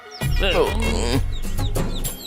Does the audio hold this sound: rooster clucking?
yes